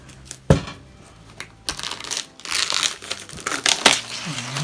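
Apple Magic Keyboard packaging for the 12.9-inch iPad Pro being unboxed, with tape peeled and cardboard and plastic crinkling, rustling and snapping in a series of close, irregular bursts and sharp crackles.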